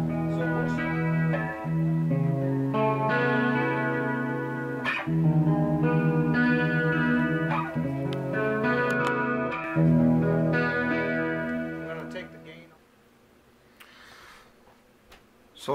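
An electric guitar rings out through a repaired Crate G130C XL amplifier with chorus-like shimmer and slight grit, strummed chords sustaining, then fading to quiet near the end.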